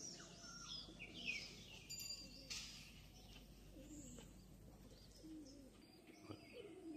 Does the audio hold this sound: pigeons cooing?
yes